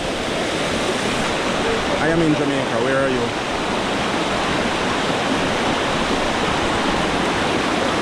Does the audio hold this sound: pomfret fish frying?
no